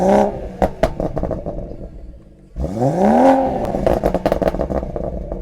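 A BMW M140i running a downpipe with no exhaust tips revs hard after a lull, a loud, close rasp rising and falling with crackles and pops scattered through it.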